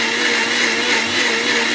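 A blender grinding pizza sauce made from tomato with chili powder and salt, a loud steady high-pitched motor whir running continuously without pause, close up and alone.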